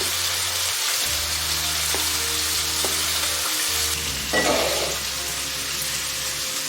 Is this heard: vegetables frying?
yes